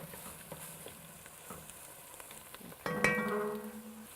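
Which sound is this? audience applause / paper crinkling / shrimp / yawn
shrimp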